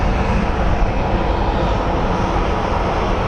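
A Southwest Airlines jet taxiing at Phoenix Sky Harbor airport gives off a steady, loud, broadband engine roar with no breaks.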